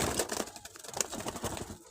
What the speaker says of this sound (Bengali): এই ঘুঘু ২টা আমি প্রায় ৬ মাস থেকে পালন করতেছি